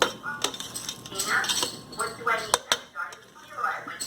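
Biryani rice being gently mixed with masala inside a pressure cooker, with repeated metal spoon scrapes and clinks against the pot over a soft background sizzle, close and fairly distinct.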